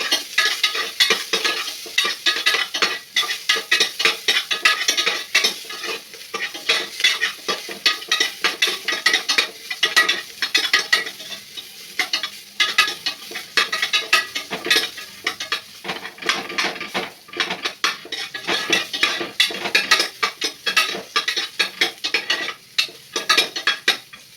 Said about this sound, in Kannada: ಎಣ್ಣೆ ಹಾಕೊಂಡು ಫ್ರೈ ಮಾಡ್ಕೊತೀನಿ